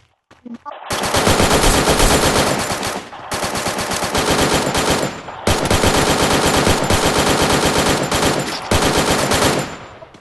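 Loud, sustained bursts of rapid automatic gunfire in the video game PUBG come in four long volleys separated by brief pauses, with no talking.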